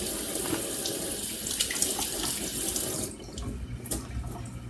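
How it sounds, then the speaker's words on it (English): Hands are rinsed under a running kitchen tap after handling cube steak: a steady, close gush of water that briefly splashes harder, then settles into a softer flow. "So let's clean our hands really good."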